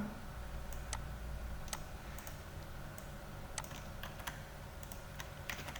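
Computer keyboard clicking steadily as code is typed, soft close keystrokes in an irregular patter over a low room hum, with no voices.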